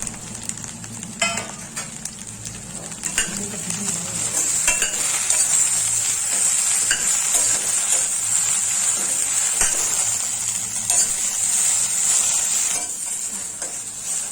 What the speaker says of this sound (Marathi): आपण भेंडी तेलावरती थोडी फ्राय करणार आहोत